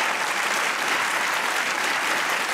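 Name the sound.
studio audience applause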